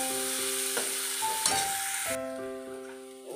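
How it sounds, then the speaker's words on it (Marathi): Onion and green chili frying in oil with ajwain, a continuous close hiss and sizzle with light stirring and faint pan contact, steady throughout and without voices. "त्याच्यात कांदा टाकून द्यायचा, कांदा आणि हिरवी मिरची चांगलं लाल होईपर्यंत भाजून घ्यायचंय कांदा"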